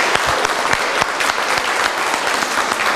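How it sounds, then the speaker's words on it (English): Loud, sustained applause from an audience at a 4-H fashion show for Marion and Washington Counties, many hands clapping in a steady dense roar with a few sharper nearby claps. "give the participants another round of applause for their lovely and hard work"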